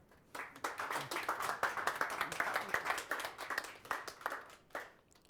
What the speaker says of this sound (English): let's have a round of applause for our candidates and for Choto